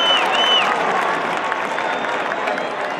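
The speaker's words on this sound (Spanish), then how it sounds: "Acto seguido, la lluvia de aplausos con el ingreso de Edmundo Ríos" Dense crowd applause roars steadily throughout at a football match in San Luis Potosí, a thick wash of many hands clapping with a brief high whistle near the start.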